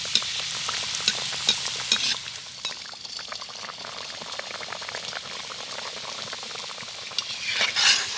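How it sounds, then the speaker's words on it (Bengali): Egg and potato snacks deep-frying in hot oil, with a steady loud bubbling sizzle throughout and occasional sharper crackles and spatters as the oil is stirred. "এরকমভাবে একটু তেল নাড়ালে তো খুব সুন্দরভাবে ফুলে উঠবে"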